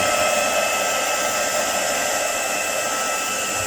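Continuous loud whoosh of a heat tool blowing steadily on fabric flowers, an even airy roar with no breaks.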